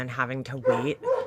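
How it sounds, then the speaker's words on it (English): A Doberman barks close by in an indoor setting, a few harsh barks and yips overlapping a person who keeps talking over it. "I apologize for the barking Doberman."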